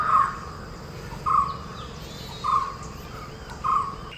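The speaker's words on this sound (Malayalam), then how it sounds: "പലതരം പക്ഷികളുടെ ശബ്ദം കൊണ്ട് മനോഹരമായ ഒരു പുറക്കാലം" At a hilltop campsite in the morning, a bird repeats the same short call four times at even intervals, over a faint background hum of insects and distant outdoor ambience.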